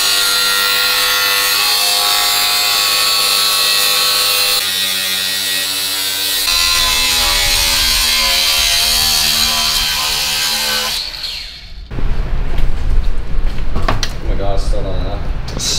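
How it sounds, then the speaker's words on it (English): A power tool cuts the lip off a car fender flare on a slammed GLC, a steady loud buzzing grind holding for about eleven seconds before it shifts to rougher, scraping bursts. "We're going to obviously have to cut that lip off the flare."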